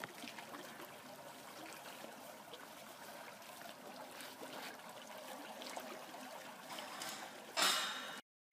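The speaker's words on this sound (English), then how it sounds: "the water will start filling the pond" Water trickling and splashing steadily into a garden pond, a soft, close gurgling flow with a brief louder splash near the end before cutting off.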